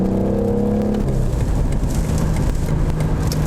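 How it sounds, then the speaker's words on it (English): A BMW engine revs under the throttle with a loud, steady, close mechanical roar that holds for a few seconds and shifts in pitch early on. "Every time you touch the gas, you understand why you're in a BMW. It just sounds beautiful."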